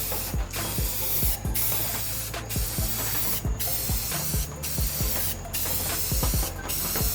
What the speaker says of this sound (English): I'm gonna go ahead and put on our coat of Rustoleum gloss black